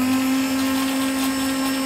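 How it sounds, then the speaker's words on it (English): Hand blender whirring steadily at the edge of a pan of shellfish bisque to froth it, a continuous motor whine with a strong tonal hum, close and fairly loud, no talking. "I'm just going to get a little hand blender, a little hay mix."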